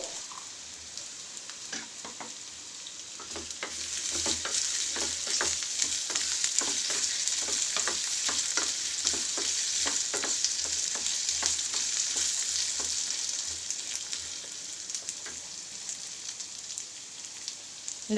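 Potatoes and mustard seeds fry in hot oil and get stirred. A steady bright sizzle runs throughout, with frequent crackling pops and spatula scrapes. No one speaks.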